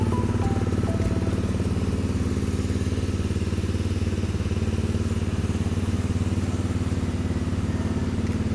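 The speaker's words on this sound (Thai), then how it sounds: "ท่อเสียงนุ่มๆนะครับผมไม่ดังมากนะครับ" A 2018 Honda CRF250 Rally motorcycle idles steadily with a soft, low exhaust note, a continuous even rumble close by with no voices.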